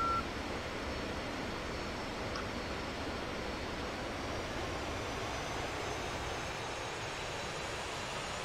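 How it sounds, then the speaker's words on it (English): A fixed-wing airplane flying in the DCS 2.5 flight simulator game gives a steady, unbroken engine drone that holds at an even level throughout, with no talking. "Just making sure that my airplane is flying to the right direction"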